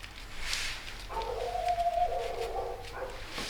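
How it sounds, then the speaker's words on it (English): A dog indoors lets out a faint, drawn-out whining howl in the background for a couple of seconds in an otherwise quiet room. "I don't know if you guys can hear my dog, but I can."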